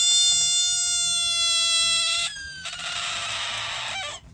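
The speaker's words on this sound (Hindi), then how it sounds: "ये मेंढक एक बिल्ली की तरह चीख सकता है" A frog gives a loud, drawn-out high-pitched scream with strong harmonics, followed by a rougher, raspy wailing cry, shrill and close, like a yowling cat.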